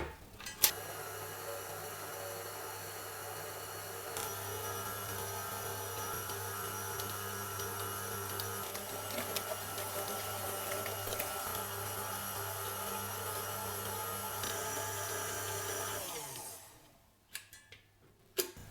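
Steady mechanical whir of a stand mixer kneading gingerbread dough with a dough hook, with a constant low hum, running evenly for most of the clip before cutting off near the end, followed by a couple of faint knocks.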